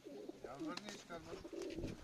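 Pigeons coo softly at close range while being fed, several low throaty calls rising and falling with faint light clatter between them.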